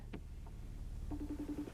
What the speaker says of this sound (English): So I'm making a FaceTime call to my other phone here